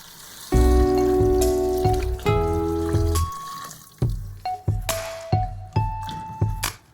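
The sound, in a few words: pouring mushroom broth into vegan miso ramen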